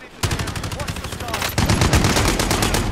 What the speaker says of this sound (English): shot me with an M60